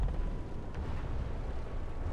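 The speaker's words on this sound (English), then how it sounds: "You see that explosion?" Explosion in War Thunder, the tank combat video game: a heavy, sustained low rumble that rolls on without clear breaks, like a distant blast echoing across the battlefield, with no speech.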